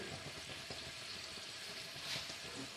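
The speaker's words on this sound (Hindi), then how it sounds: "अच्छी तरह उसको फिर फ्राई करेंगे। ये शुरू में आपने जो है फ्लेम जो है वो हाई पे ही रखना है।" Chicken fries on a high flame for an aloo chicken shorba, giving a soft, steady sizzle and bubbling that runs without a break.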